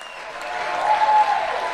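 A crowd at a political rally in Las Vegas claps in a dense, sustained burst of applause that swells slightly toward the middle, with no one speaking.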